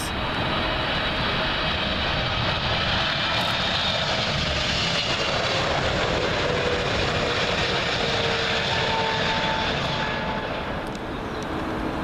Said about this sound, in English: arriving next, American Airlines, sorry, 777. And this one from Dallas